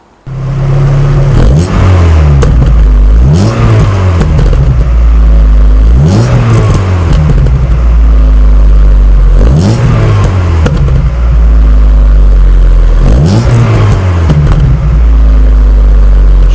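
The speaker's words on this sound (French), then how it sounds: "je vous propose tout de suite d'écouter le chant de ce bloc Opel 16 soupapes débordant d'énergie" A 1991 Opel Astra GSI 16-valve engine revs up and drops back in repeated loud, close bursts, about four or five rising sweeps over a steady idle rumble, with no voices.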